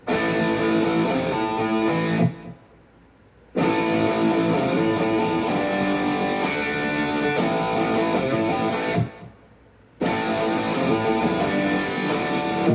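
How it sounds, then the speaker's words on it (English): A distorted electric guitar plays an intro riff at a slowed, steady pace, with two brief pauses where the playing drops out before resuming. "So that whole intro sounds like this. I'll slow it down."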